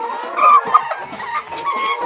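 A rooster on a farm clucks and squawks in short, loud, close bursts, with a few quieter calls following amid outdoor background noise.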